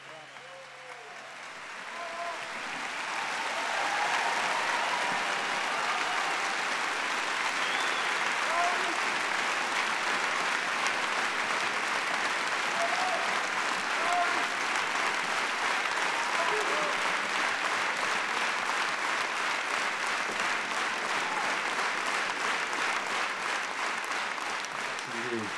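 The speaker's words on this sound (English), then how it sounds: "So please give a big round of applause to Maestro Nika and your Georgian Philharmon" A large concert audience claps steadily for an orchestra, the applause building after a few seconds and then holding at full strength, dense and continuous.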